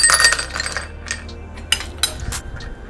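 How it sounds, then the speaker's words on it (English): Ice cubes drop into a glass for a cold Indonesian Es Bongko Pontianak dessert, giving a few sharp, separate clinks and clatters up close between quieter pauses. "I'm going to get a bit of ice cubes"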